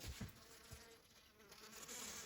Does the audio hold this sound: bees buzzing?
yes